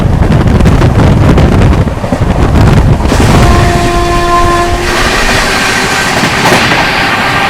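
The Ahmedabad-Mumbai double decker express rumbles loudly past at close range, then sounds a long sustained horn blast over heavy wind noise and rolling wheels.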